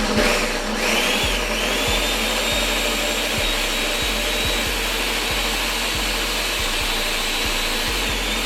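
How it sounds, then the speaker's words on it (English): A blender whirring steadily through jalapeño bomb filling ingredients, a loud continuous motor hum with a faint rhythmic knocking pulse underneath, no voices. "Once all those ingredients are blended up"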